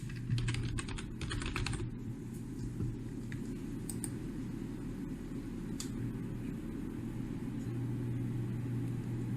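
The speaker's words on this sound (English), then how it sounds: "type in your username followed by your password" Someone types a username and password on a computer keyboard while logging into a cPanel web hosting account: a quick flurry of close keystroke clicks, then sparse single taps over a low, steady room rumble.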